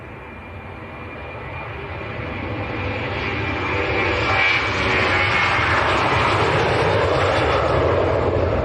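A Jet2 Boeing 737-800 departs Leeds Bradford Airport with a steady, broadband jet roar that swells gradually and holds loud throughout, with no other sounds standing out.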